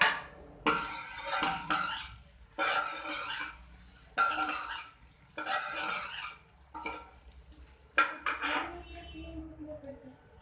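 Onions going into hot ghee in a cooking pot, with a spoon stirring and clattering against the metal in repeated bursts, close and fairly loud, and only a faint hiss between the strokes.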